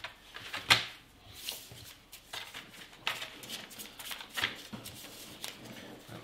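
Cards for the Sheriff of Nottingham board game are shuffled in several quick riffles and soft slaps at close range on a tabletop. Faint voices murmur in the background.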